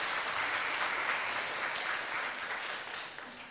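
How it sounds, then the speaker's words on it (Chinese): A church congregation at a Sunday worship service applauding, with a dense, steady round of clapping that holds for a few seconds and then starts to fade, moderately distant and with no talk. "给他一个掌声，谢谢。"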